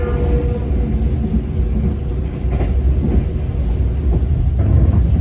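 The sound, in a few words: Argo Merbabu passenger train passing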